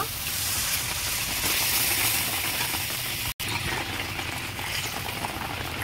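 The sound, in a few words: water poured into curry gravy, boiling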